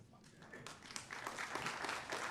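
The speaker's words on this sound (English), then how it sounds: "You applauded my ability to rise from a chair and stand behind a podium" An audience at a university mechanical and aerospace engineering 60th anniversary event applauds the dean as he takes the podium, a steady, moderately distant wash of clapping that swells and holds through the moment.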